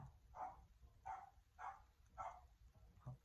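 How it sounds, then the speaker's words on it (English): A dog barks five times in a steady rhythm, each bark fairly faint and a little distant, with no other sounds in the room. "my dog's barking"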